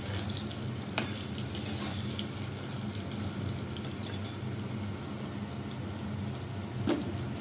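Potatoes frying in oil in a pan for a Bengali fish curry, a steady broadband sizzle running throughout with occasional clinks and light stirring, close and moderately loud, with no talking.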